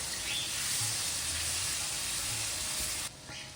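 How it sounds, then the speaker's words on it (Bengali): Loud, steady sizzling and hissing of a spice paste frying in a hot pan with water added bit by bit, with faint stirring, cutting off abruptly near the end. "অল্প অল্প করে জল দিয়ে আমি মশলাটাকে খুব ভালো করে কষিয়ে নেব।"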